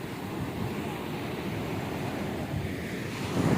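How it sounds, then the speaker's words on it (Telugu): Sea waves surge and crash along a rocky Karnataka beach near Udupi, a steady rumbling roar with wind buffeting the microphone, swelling louder toward the end. "అలలు ఉరికే కోపంతో ఎగసిపడుతున్నాయి చూడండి"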